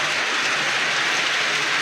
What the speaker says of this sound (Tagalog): Yan yung ulan guys, oh malakas